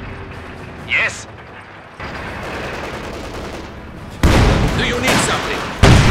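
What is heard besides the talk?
gunfire in the video game Company of Heroes 2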